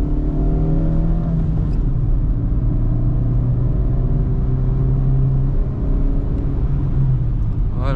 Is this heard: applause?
no